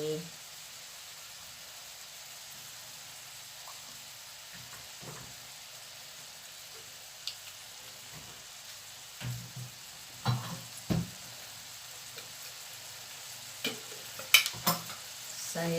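Seafood instant noodles stir-fried with oyster sauce make a faint, low sizzle, with occasional soft clinks and scrapes of stirring growing more frequent toward the end.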